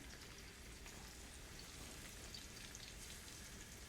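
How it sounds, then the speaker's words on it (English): Steady crackling sizzle of hot oil in a pan, a dense continuous hiss with faint pops, fairly quiet and without voices. "Got that going nice and hot. I hear the sizzle."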